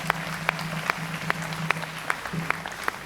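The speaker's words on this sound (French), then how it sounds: "Acclamons le Seigneur" A church congregation at a synod worship service claps in a slow, regular rhythm, individual claps spaced about every half second over a low steady hum and background murmur.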